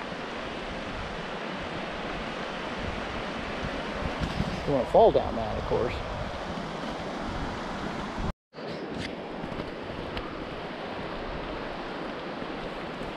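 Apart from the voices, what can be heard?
creek flowing on Abrams Falls hike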